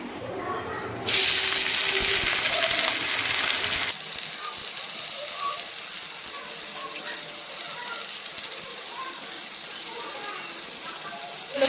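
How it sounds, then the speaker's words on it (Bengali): Tadka ingredients sizzling in a hot pan, a loud bright frying hiss that starts abruptly, then settles into a quieter crackle with a voice talking over it. "খুব ভালোভাবে ভেজে নিতে হবে"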